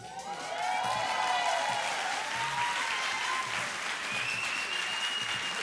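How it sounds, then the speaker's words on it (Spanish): An audience at an improv comedy show breaks into applause, a full, steady round of clapping rising after a quiet start, with a few whistles and cheers over it. "El aplauso es inspiración."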